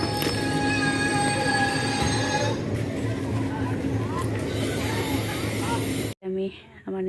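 A train runs on rails with a continuous rumbling roll and thin, high wheel squeals, while voices murmur in the background. The noise cuts off near the end and a short stretch of speech follows.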